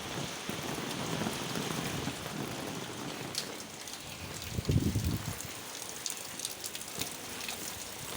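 Steady heavy rain pours down continuously over buildings and flooded roads in Mahabubabad, a dense hiss of drops hitting surfaces, with a brief louder gust of splashing midway.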